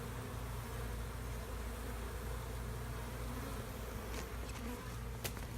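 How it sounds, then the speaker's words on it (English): Steady, dense buzzing of many honeybees droning continuously at a swarm trap, close and fairly loud, with a few louder passes near the end. "there's a few bees coming and going"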